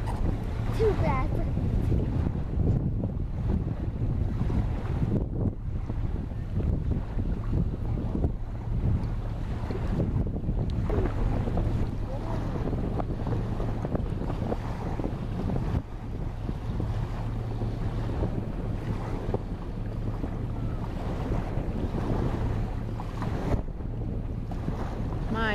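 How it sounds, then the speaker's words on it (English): Steady wind buffeting the microphone outdoors on open water on a lake, with low rumbling gusts throughout and a constant hum beneath. "My gosh, it is windy out here."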